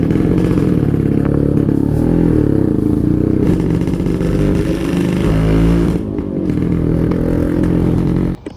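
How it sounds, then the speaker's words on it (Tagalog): A Kawasaki HD3 motorcycle engine revs loudly and steadily with a deep rumbling exhaust, pitch rising and falling through repeated throttle blips, ending abruptly. "Medyo masarap kasi sa tenga yung tunog ng tambutso nito"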